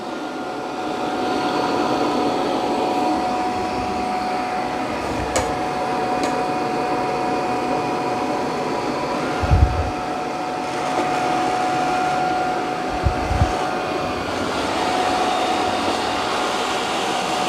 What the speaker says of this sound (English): Now it's going to mop these muddy paw prints.